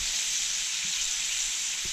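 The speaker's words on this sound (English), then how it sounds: "320 so degrees to sear up the steak" Steak searing in a hot pan on a La Nordica Rosa wood cook stove gives off a loud, steady sizzle that runs unbroken from start to finish, close and alone, with a faint low knock near the end.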